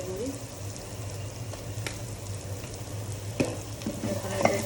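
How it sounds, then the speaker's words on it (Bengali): Spice paste with fish roe, cumin powder and coriander powder sautéing in a pan: a continuous close sizzle with stirring scrapes and occasional sharper clicks of the utensil against the pan. "এখন এটাকে একটু ভালোভাবে কষিয়ে নেব"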